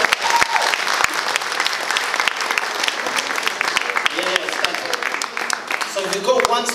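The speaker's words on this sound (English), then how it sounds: "give a big round of applause." A large crowd at the Luton Mela 2018 launch applauds steadily and loudly throughout, with a few voices rising near the end.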